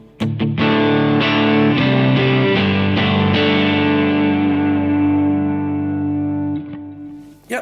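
An electric guitar on its neck pickup in a clean tone strums a run of chords, then lets the final chord ring and slowly decay, with a few sharp string clicks at the start and end.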